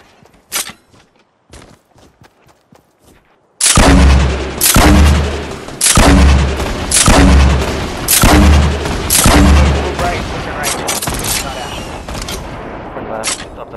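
Video game gunfire from a duo match. After a few sparse early shots, a run of heavy, booming blasts repeats in a steady rhythm about once a second, loud and close, with voices nearby.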